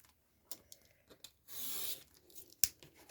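Scissors trim paper for a winter journal: a few quiet, scattered snips and rustles, then a short burst of papery friction and a sharp crisp cut near the end, close up in a quiet room.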